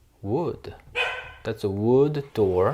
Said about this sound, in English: Oh, yes. That's my dog.